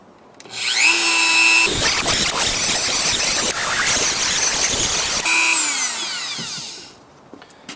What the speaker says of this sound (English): Dremel works perfect because it's a really thin cut